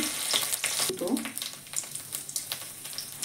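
Chopped ginger and bay leaves hitting hot oil, a close, bright sizzle with crackling bursts and a few scraping stirring knocks, loudest at the start and settling into a steady fry.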